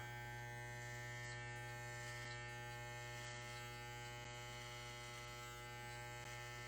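Electric hair clipper running during a home haircut, a steady close buzzing drone with strong even harmonics, unbroken and alone with no talking.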